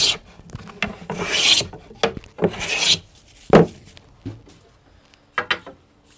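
A blade being sharpened or polished on a very fine abrasive, equivalent to 2,000 grit or finer, in a woodworking shop; close rasping strokes repeat in a steady back-and-forth rhythm with short gaps.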